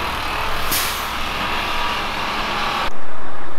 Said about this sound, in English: Sorry for the noise, there's a big wagon right opposite us.